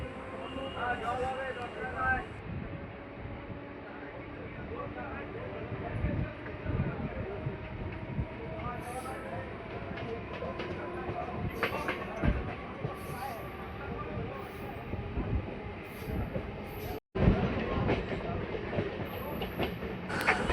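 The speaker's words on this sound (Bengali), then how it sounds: "আমাদের ট্রেন ছেড়ে দিল গড়িফা স্টেশন থেকে।" A local train leaves Garifa station and runs along the Naihati–Bandel line, a steady rumble of wheels with rhythmic clickety-clack and occasional rattles heard from inside the carriage, with passengers faintly audible.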